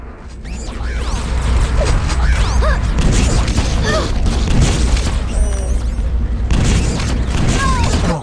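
Rocket explosion from a kill in Quake 3, a loud booming blast over a dense, continuous roar of game action and whooshing effects, with a player talking throughout.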